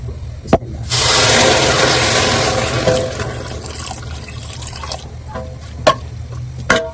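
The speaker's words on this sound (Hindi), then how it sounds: "अब मैं डाल दूंगी पानी।" Water pours steadily into roasted gram flour in a hot pan for a few seconds, rushing then tapering off, followed by light clinks of a spoon stirring.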